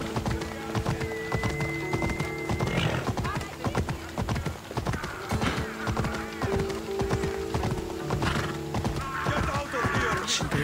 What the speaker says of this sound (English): I don't like riding the horse around in the city.